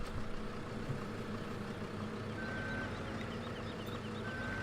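A vehicle backing up with a small utility trailer in Farming Simulator 17, heard as a steady engine rumble with intermittent reversing beeps, moderately loud and continuous.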